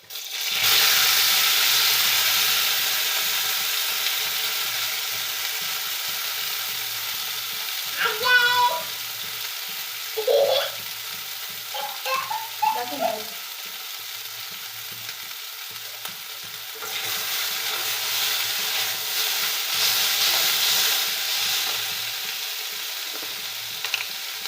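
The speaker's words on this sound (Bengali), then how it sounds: "হালকা ভাজা হয়ে গেছে, এখন নুডলসগুলো দিয়ে দিন" Noodles added to lightly fried onions in a pan sizzle steadily, with a few short scraping stirs and clatters in the middle; a long continuous hiss runs throughout, fairly close.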